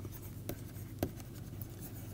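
Marker or chalk writing on a board during a lecture, with a few sharp scratchy strokes standing out against steady low room hum, fairly faint and with no talking.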